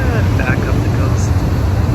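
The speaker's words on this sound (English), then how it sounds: "No point in saying too much here with the big engines on either side." A BC Ferries vessel's big engines run loud and steady on the Inside Passage, giving a dense unbroken rumble and roar throughout with no pauses.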